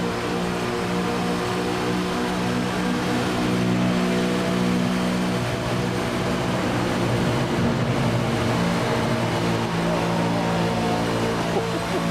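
Race car engines on the Michigan Speedway oval in a BP All Stars Eseries sim race, a steady loud droning whine that holds throughout with slight pitch shifts as the cars run in the draft, no talking.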